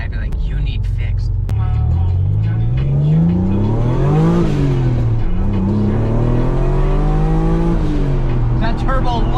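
A turbocharged car engine accelerates hard on a street, its loud, close roar climbing in pitch through the gears, dipping, and then rising again, with a person's voice over it.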